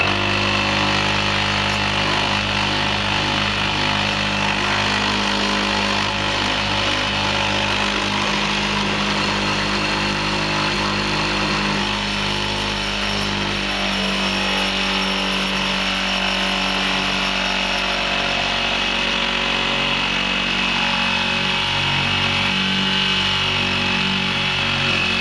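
A power drill boring into a bead-making tool clamped in a vise, running loud and continuous without a break for the whole stretch, with no talk.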